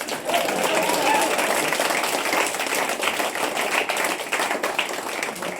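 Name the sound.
applause for Russell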